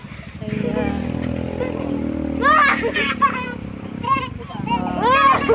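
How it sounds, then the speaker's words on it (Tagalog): Noisy children playing outdoors by a road, overlapping shrill shouts and chatter at moderate distance over a continuous low rumble of passing traffic. "Ang ingay ng mga bata"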